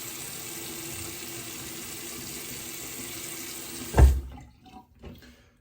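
A bathroom tap runs steadily for a rinse after a shave, a constant close gush of water that cuts off abruptly near the end, followed by a few soft clunks and drips.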